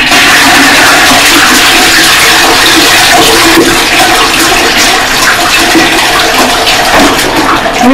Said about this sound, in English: And then the next thing you do is that you want to flush.